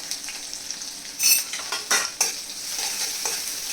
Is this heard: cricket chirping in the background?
no